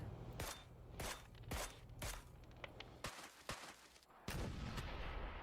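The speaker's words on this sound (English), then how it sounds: "We got mortars coming out." Mortar fire in a video game, a series of sharp thumping blasts spaced roughly every half second, some heavier and louder, with crunchy impacts trailing off between them and no voices.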